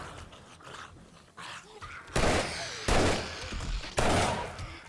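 Weapon fire in the zombie survival game 7 Days to Die during a horde night, with three loud, sharp gunshot blasts each followed by a ringing decay over softer game noise.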